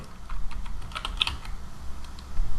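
Rapid clicking of computer keyboard keys as text is entered into an Excel spreadsheet cell, a steady run of close, crisp keystrokes with no talking.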